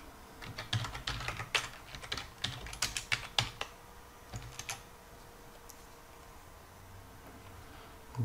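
Someone types an IP address on a computer keyboard to connect to a device: quick, irregular clicks in bursts, fairly quiet and close, thinning out toward the end, with no talk.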